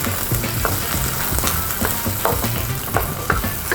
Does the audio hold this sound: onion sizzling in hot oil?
yes